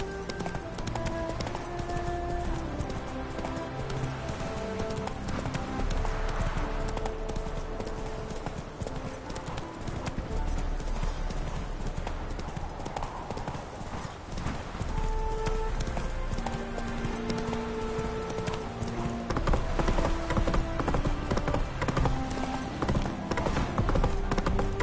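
Horse galloping in a video game, a steady rapid clip-clop of hooves running throughout, close and prominent, layered with game music and occasional talk.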